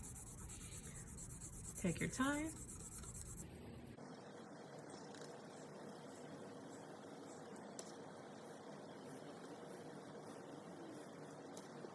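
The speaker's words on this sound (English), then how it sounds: "Now that I have colored or put a lot of pencil lead on the back of my paper" Dark pencil lead is rubbed over the back of a paper worksheet in close, scratchy back-and-forth shading strokes for a few seconds before fading into a quiet hiss, with a brief spoken voice.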